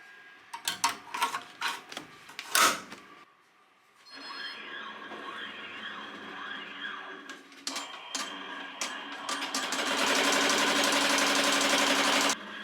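A Melco EMT16x embroidery machine stitches a patch, starting with irregular clacks and taps, then settling into a steady mechanical whir with rhythmic needle chatter that grows louder and denser toward the end, close and without speech.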